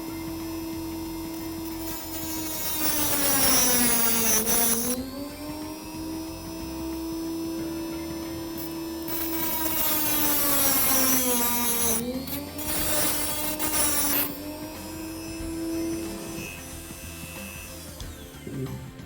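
Model railway track being cut at marked points with a small power tool, a high whining grind that dips in pitch under load across two long cuts, with a steady motor hum between them and no talk.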